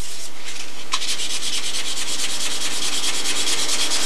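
Silver paint on a model plane is sanded by hand with steady, close, hissing strokes that rasp continuously for a few seconds with no voices.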